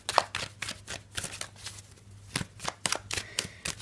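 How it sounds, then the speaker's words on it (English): Tarot cards shuffled by hand in a series of quick riffling and snapping bursts, close and fairly quiet with a low hum underneath. "let's give the cards a bit of a shuffle"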